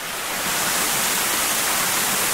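The Thalanar waterfall pours down in a steady, loud, broadband rush of falling water, constant and close with no voices over it.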